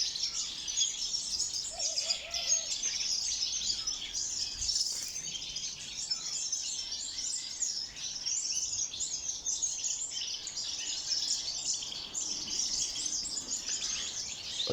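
Birds chirp and call inside an aviary holding African doves, a faint, busy chorus of high twittering with a brief lower call, distant and continuous.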